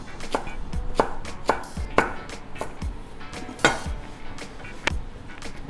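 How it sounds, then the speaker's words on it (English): Fresh parsley and cilantro being roughly chopped with a knife on a board for falafel, a run of sharp, close, irregular thuds at about two per second with no talking. "30 grams of parsley that we're gonna roughly chop, and 20 grams of cilantro"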